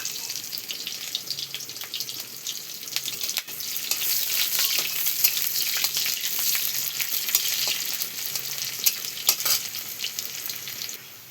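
Steady, loud sizzling of onions frying in hot oil, with occasional stirring clatter and crackles running throughout and no one speaking.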